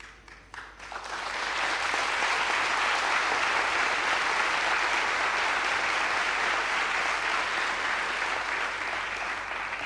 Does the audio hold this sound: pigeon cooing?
no